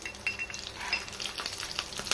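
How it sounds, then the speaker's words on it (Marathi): Cumin seeds and chillies crackle and sizzle in hot oil in a kadai, a brief, close burst of spitting hiss with light stirring. "सर्वात पहिले जिरं घालणार आहोत, त्यानंतर मिरची,"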